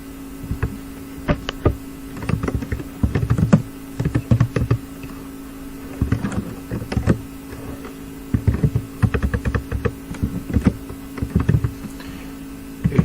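Computer keyboard typing code, heard as bursts of quick close clicky keystrokes separated by short pauses, over a steady low electrical hum with no talking.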